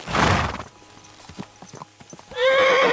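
Horse hooves clip-clop in a steady, moderately close rhythm while riding in Kingdom Come: Deliverance II, ending in a loud whinny.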